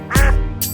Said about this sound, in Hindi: मम्मी बतख बोली